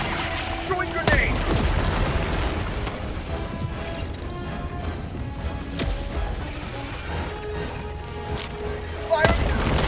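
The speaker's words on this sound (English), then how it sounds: "Throwing grenade." In Helldivers 2, a grenade bursts in a loud crash amid rapid gunfire and battle noise that carries on continuously, with a second sharp impact near the end.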